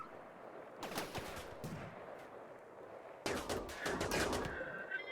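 Rimworld gunfire from a video game battle, fairly quiet bursts of rapid automatic shots in two clusters, the second denser and louder, with ringing tones near the end.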